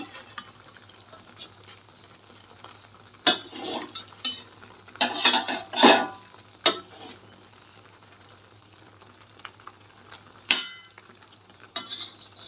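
A curd masala curry for Rayalaseema-style bottle gourd is stirred in a pan with a spoon, giving several short scraping and clinking bursts between quieter stretches, with a steady low hum underneath.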